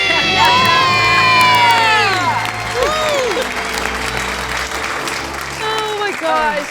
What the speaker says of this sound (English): Let's hear your big debt-free scream.